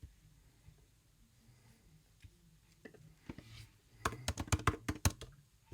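A burst of rapid computer keyboard keystrokes, crisp and close, clatters for about a second and a half after a quiet stretch of faint room tone and scattered soft clicks.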